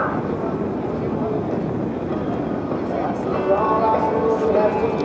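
An F/A-18C Hornet jet at an airshow roars steadily with a broad, loud engine rumble, and a commentator's voice runs over it.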